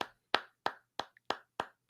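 A few people clapping for the Yankees in a small group, about seven separate sharp claps in an uneven rhythm, close and loud with short gaps of silence between them.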